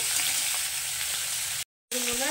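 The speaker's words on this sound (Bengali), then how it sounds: "হালকা করে মাছটাকে আমি ভেজে নেব" Fish sizzling steadily as it fries lightly in hot mustard oil for a South Indian style fish curry, a continuous close crackle that cuts out briefly before a short tonal scrape or clink near the end.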